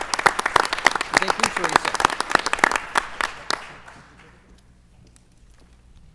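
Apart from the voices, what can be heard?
audience applause at school board meeting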